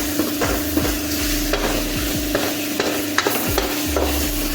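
Vegetables frying in a pan while a spoon stirs them, with a constant sizzle and repeated scraping strokes in a steady rhythm, heard up close and without voices.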